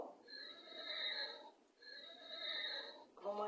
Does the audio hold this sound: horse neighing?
yes